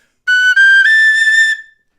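A D tin whistle plays in its second octave, one bright sustained note that briefly breaks, then steps to a slightly higher pitch and holds before fading out, loud and clean, with no talking.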